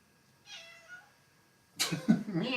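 A pet cat named Rosie gives a soft, drawn-out meow, quiet and close, followed by a louder rustling burst of handling noise.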